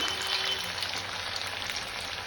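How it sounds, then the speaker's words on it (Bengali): Pieces of food frying in hot oil in a wok, a steady, fairly quiet hissing sizzle that holds throughout with no talking. "দেখো কড়াইয়ে তেল গরম হয়ে গেছে, তেলে ছেড়ে দিয়েছি"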